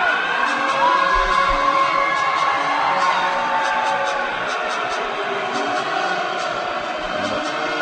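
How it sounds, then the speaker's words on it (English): Rival crowds at a boys high school basketball game between Brush and Holy Family in Colorado Springs, standing and cheering loudly for the opening tip, a steady roar of yells and whoops with faint rhythmic clapping, and no clear talk on top. "Holy Family crowd is being countered by the Brush crowd here."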